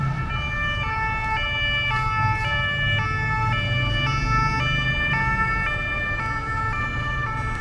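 A police car siren passes near the Versailles RER station, a loud alternating two-tone wail stepping steadily between pitches for several seconds over low traffic rumble.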